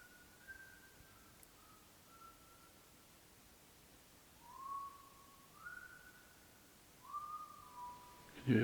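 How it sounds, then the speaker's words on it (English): Faint, distant whistling of a few thin gliding tones, heard during a paranormal investigation at Englefield Hall, rising and falling in short phrases over a quiet hiss. "You're whistling"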